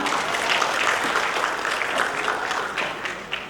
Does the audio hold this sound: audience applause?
yes